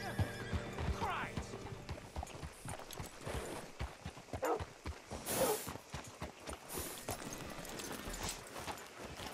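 Horse in the Red Dead Redemption 2 video game, hooves clip-clopping steadily with a snort and a whinny midway, close and clear, while someone talks over it.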